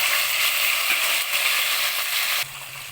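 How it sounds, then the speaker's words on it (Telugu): Green chillies fry in hot oil with browned garlic, a loud, steady sizzle crackling throughout, with a brief stirring clatter near the end. "చూడండి మిర్చి బాగా ఫ్రై అయిపోతున్నాయి"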